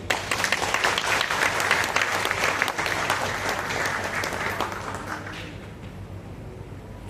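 An audience claps steadily at a realtors' meeting in a hotel hall, a dense, even patter of many hands that fades out toward the end.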